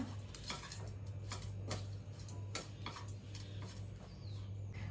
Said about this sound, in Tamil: இது எல்லாத்தையும் நல்லா புரட்டி விட்டுக்கலாங்க